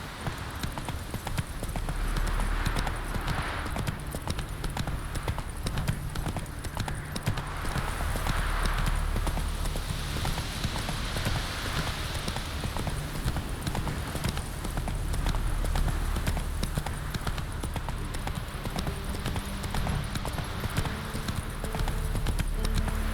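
Roach the horse galloping in The Witcher 3, steady rhythmic hoofbeats pounding continuously throughout at close range over a constant outdoor ambience.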